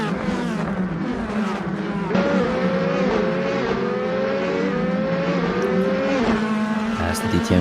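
DTM race cars lap Misano at night in Assetto Corsa, engines howling and shifting up and down in pitch as several cars pass, loud and continuous under a commentator's voice.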